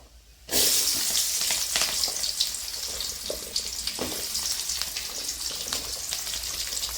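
Onions and chillies dropped into hot oil in a pan for a goat head fry, a sudden loud sizzle that starts abruptly and then holds as a steady crackling hiss with occasional stirring scrapes, close up.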